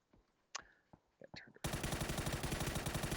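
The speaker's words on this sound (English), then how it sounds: "First couple of shots don't exactly land." Rapid gunfire from a competitive shooter video game match bursts in abruptly and loudly, a dense sustained volley after a few quieter isolated shots and faint murmurs.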